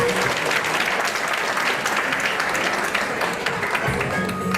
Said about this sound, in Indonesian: Kita beri tepuk tangan untuk Pak Gio.